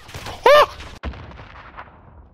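Gunfire in a shooter video game: a sharp tonal burst followed by a single loud crack and a fading tail, close and brief, with no talk over it.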